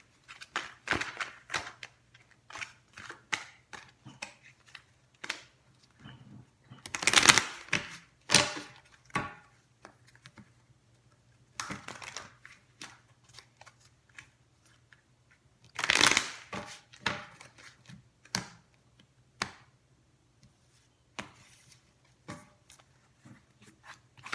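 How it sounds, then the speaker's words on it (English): Tarot cards being shuffled and drawn from a deck, with repeated bursts of riffling and snapping, some loud and sharp, separated by quieter pauses and soft handling with no talk. "let me just pull these three cards here for Capricorns and their exes for May 2019."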